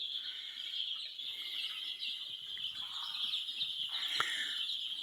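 Black feather-footed Andijan chicks cheep in a steady, dense high chorus, a continuous shrill twittering that stays close and fairly quiet throughout, with no talk over it.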